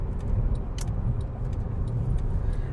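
Steady car road noise from inside a vehicle driving through early-morning rush hour traffic, a continuous low rumble with faint ticking and jingling, no talk.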